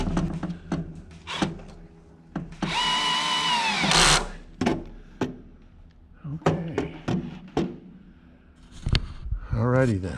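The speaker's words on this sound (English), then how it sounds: "let's get the rest of the screws in here" A power drill drives screws into a gap seal: one loud, close whirring burst lasts over a second, surrounded by sharp taps, knocks and handling clatter, with a voice speaking now and then.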